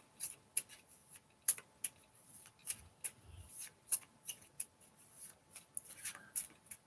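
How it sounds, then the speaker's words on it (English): Tarot cards shuffled by hand in a quiet room, a string of soft, close, irregular papery slides and taps with no talking. "so I'm going to keep shuffling"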